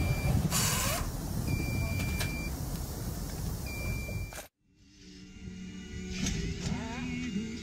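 A truck carrying bicycles away at a Chinese car dump, with steady engine rumble and a repeating high reversing beep early on, then a sudden cut to quieter street noise with brief tones and passing traffic.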